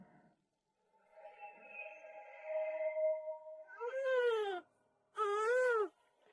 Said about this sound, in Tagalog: umalingaw-ngaw ang malakas na iyak ng isang sanggol